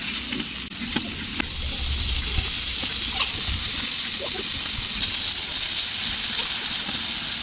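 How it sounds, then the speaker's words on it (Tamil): Fish masala sizzling steadily in hot oil in a pan, with small scrapes and knocks as the pieces are turned, a constant close hiss throughout. "இப்போ எண்ணெய் கொஞ்சம் நல்லா சேர்த்துப்போம் திருப்பி போட்டுப்போம் அப்பப்போ இப்படி பிரட்டி போட்டுப்போம்"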